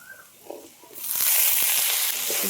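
Potatoes hit a hot pan with spices while Bengali ghugni is cooked. After a quiet second a loud, bright sizzle bursts in and holds steady, with faint stirring clatter.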